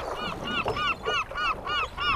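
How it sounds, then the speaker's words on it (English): Gulls or seabirds call repeatedly around a tiny fishing boat at sea, a rhythmic series of harsh honking cries about every quarter second, fairly close and loud over low wind and water noise. "look, I've got so many birds around me"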